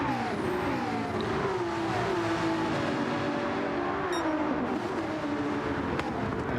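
GT3 race cars in a sim racing game sweep through a long corner, engines droning steadily with gliding pitch changes as they shift and pass, moderately loud with no talk.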